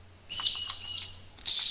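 Birds in a video game give bright, high chirps and thin sustained whistles in two short bursts over a low steady hum.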